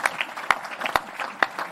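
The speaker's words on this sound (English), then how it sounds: "So that's worth a round of applause." Audience applause at a quantum cryptography and networks summit panel: a short burst of scattered clapping with several sharp, distinct claps standing out, moderately close.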